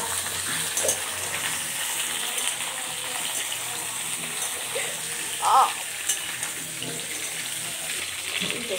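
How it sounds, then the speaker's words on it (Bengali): Potatoes frying in a pan, a continuous broad sizzle and hiss at moderate loudness, with a brief clink partway through. "আলুটা একটু ঢাকা দিয়ে লাল লাল করে ভেজে নেব।"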